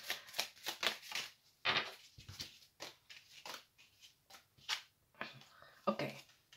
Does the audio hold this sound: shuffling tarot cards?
yes